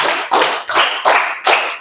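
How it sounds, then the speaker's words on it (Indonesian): A classroom of students claps together in a counted concentration pattern, five loud bursts of group clapping with short gaps between them, close and clear with no talk over them. "Tepuk 1. Tepuk 2, tepuk 3, tepuk 4, tepuk 5."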